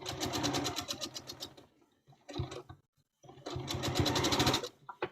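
A sewing machine stitches fabric in two fast, rhythmic runs of needle clatter, close and loud, separated by a short pause with a few quieter mechanical clicks.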